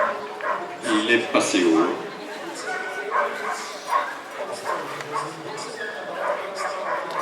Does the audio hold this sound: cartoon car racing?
no